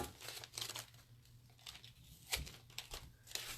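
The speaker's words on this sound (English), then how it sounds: "using this backing material, you can just cut some strips out" Scissors snip and crinkle through strips of vinyl stencil backing material for a pillow project, with several close crisp cuts and rustles at low level and no talking.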